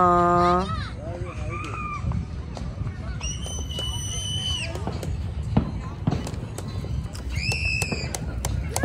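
Fireworks crackle and pop continuously in a dense, noisy wash at a Fourth of July celebration, with whistling rising tones and voices shouting over them.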